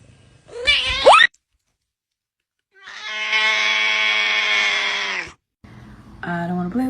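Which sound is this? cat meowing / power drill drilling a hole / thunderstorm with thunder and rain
cat meowing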